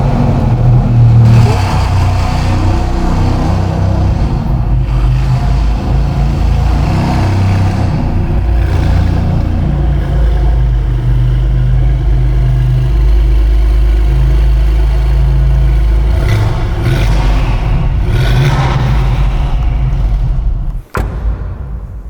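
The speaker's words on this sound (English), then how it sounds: "that gorgeous 3-liter twin turbocharged pre-ignition V6 that Maserati have placed in there" Novitec-tuned Maserati MC20 Cielo with a 3-liter twin-turbo V6, its engine loud and close, rising and falling through several revs over a deep idle before a sudden cutoff near the end.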